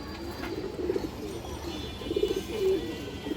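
A domestic pigeon coos in soft, low, throaty bursts, two clusters of murmuring calls rising over a quiet background, close by and moderately loud.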